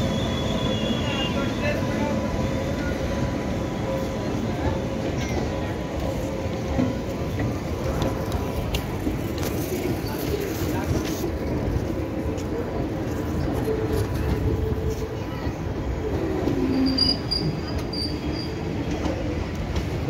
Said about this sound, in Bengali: আবার যখন ট্রেনটা ঢুকবে তখন আমি চালু করব